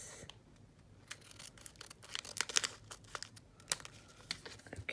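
Bead packaging being cut open, with crinkling plastic and sharp snipping and tearing bursts that grow denser midway, close and fairly quiet, with no talking.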